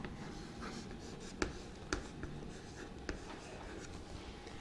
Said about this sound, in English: So I'll write it here.